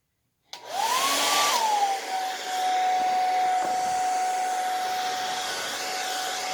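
A hair dryer switches on and blows steadily and loudly near wet crackle paint, its motor whining up in pitch at start-up and then settling into a constant, close whir.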